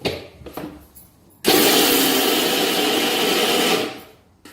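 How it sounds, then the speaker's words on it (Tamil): An electric mixer grinder coarsely grinds soaked lentils for paruppu usili, switching on abruptly into a loud, dense whirring roar that holds steady for over two seconds before winding down, after some faint handling clatter. "இதை நம்ம மறுபடியும் குறைன்னு அரைக்கணும்."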